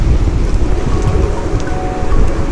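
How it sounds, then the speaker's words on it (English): Heavy rain and gusting wind roar steadily around a walker on an outdoor path between Faversham and Whitstable, with wind buffeting the microphone throughout and no talk. "the weather is getting quite harsh, really windy, really rainy"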